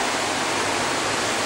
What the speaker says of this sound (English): And all that noise in the background is the rain. It's raining really heavily.